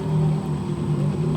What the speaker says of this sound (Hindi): मोटर हमारी चल चुकी है